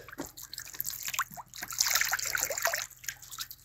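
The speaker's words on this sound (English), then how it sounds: "then I'm going to pour some water on it and see what we got" Water is poured onto harvested rock powder, producing quiet trickling and splashing with small bubbling drips, rising in the middle and fading toward the end.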